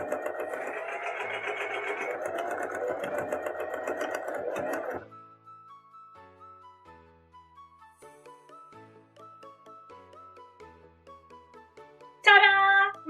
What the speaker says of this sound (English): we'll head to the sewing machine one last time to stitch the ties in place